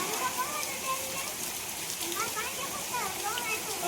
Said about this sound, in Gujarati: અત્યારે તો એક ધારો સવારનો ચાલુ છે વરસાદ